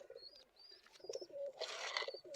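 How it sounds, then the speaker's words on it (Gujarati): Pigeons cooing close by in soft repeated calls, with a brief flutter or rustle partway through. "આપણા કબૂતર છે"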